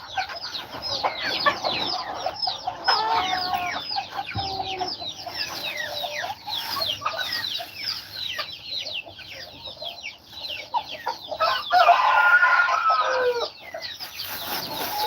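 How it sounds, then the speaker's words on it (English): Hungry chicks and chickens on a farm in Aklan, Philippines, call constantly. The bright overlapping peeps and clucks run steadily and fairly close, with no talk over them. "I hear them. Yeah, those chicks are hungry."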